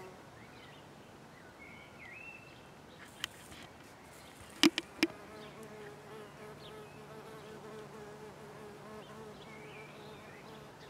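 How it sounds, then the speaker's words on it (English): A bee buzzes steadily close by on an allotment, a faint continuous drone with a few sharp knocks and distant birds chirping in the background. "bee has got that much pollen on him"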